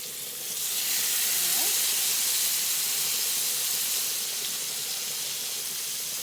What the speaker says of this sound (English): put the steaks over into the frying pan, just like this.